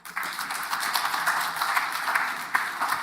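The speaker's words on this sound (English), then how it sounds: "So I give them hands of applause." Applause from an audience at an African agriculture science week and general assembly, greeting people just crowned in Ghanaian attire; steady broadband clapping over about three seconds, moderately loud and continuous.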